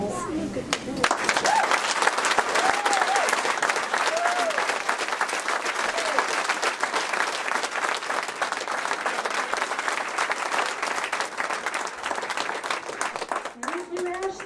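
An audience at a foundation's legacy award ceremony gives loud, sustained applause that fills the hall for the whole stretch, with a voice speaking briefly over it at the start and end.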